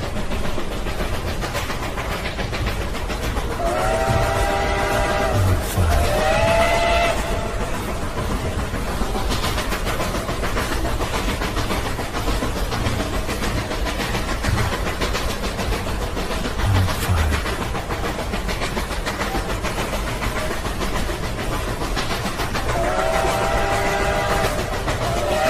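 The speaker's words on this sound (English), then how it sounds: "This train travels by day." A train rumbles steadily along the rails, with rhythmic clatter of wheels and occasional squealing tones from the carriages, loud and continuous throughout.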